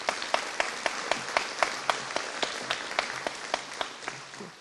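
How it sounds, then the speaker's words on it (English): Audience applauding at a corrections officers' graduation ceremony in Prince George's County: steady, moderately distant clapping from a crowd, with individual sharp claps standing out across the whole stretch. "Let's give them a round of applause for doing that."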